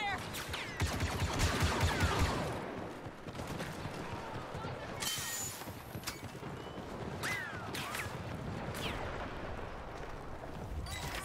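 Blaster gunfire crackles through a Star Wars Battlefront II battle: dense, overlapping bursts with zipping laser streaks, loudest in the first couple of seconds, then steady sporadic shots amid background commotion and some voices.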